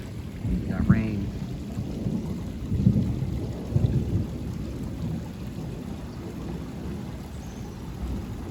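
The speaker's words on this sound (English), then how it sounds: "Oh, we got rain." Severe thunderstorm with rain outdoors: a steady low wash of rainfall and wind with a few dull rumbles of distant thunder, fairly faint, and no voices.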